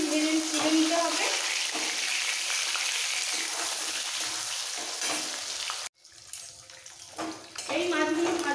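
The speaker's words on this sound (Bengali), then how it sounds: "খুব হালকা করে এপিট ওপিট ভেজে তুলে নিতে হবে।" Fish fries lightly in hot oil, turned on both sides, with a steady loud hiss and crackle that drops away briefly near the end. A voice is heard at the start and finish.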